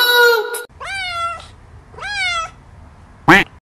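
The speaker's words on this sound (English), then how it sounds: "C for cat." A cartoon cat meows three times: two drawn-out, rising-then-falling meows in the middle and a short sharp one at the end, following a brief burst of music.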